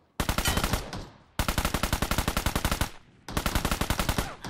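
Automatic gunfire in the mobile battle-royale game PUBG Mobile: three rapid loud bursts, each a rattling string of shots, the middle one longest, close and dominant with no talking.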